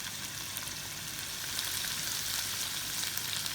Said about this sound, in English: Over here I'm going to start heating up some oil.